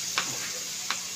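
Chopped onion and chili sizzle in a frying pan with a steady hiss, broken by two brief stirring scrapes.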